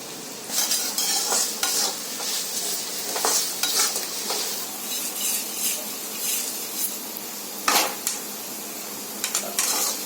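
Salt tossed into a sizzling tempering for thin poha chivda, a steady close frying hiss broken by spoon scrapes and sharp clinks on the pan, with no voices.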